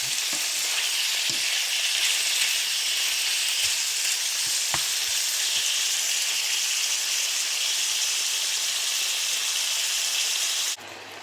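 Beef sizzling and frying in a pan for quick steak tacos, a steady loud crackling hiss with occasional stirring knocks, continuing evenly until it drops off at the end.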